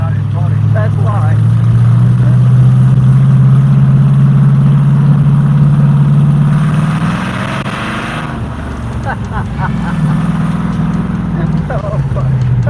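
A T-bucket hot rod engine idling with a deep, loud rumble, briefly revving and easing off, then settling back to a lumpy idle close by; people talk over it.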